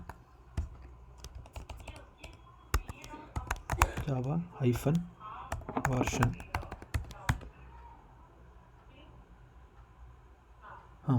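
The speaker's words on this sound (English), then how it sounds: "you can see which version of Java you have installed by typing a command java" Rapid bursts of computer keyboard typing clatter close by as a command is entered, with irregular clicks and pauses, while a person speaks over part of it.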